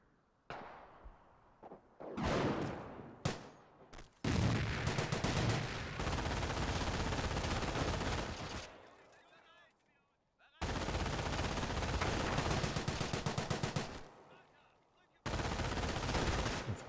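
Rifle grenades and small-arms fire rattle in a Company of Heroes battle, starting with a few isolated blasts before long, dense sustained bursts of gunfire broken by brief silences.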